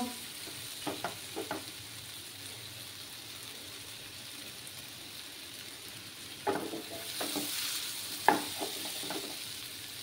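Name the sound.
spice paste frying in a pan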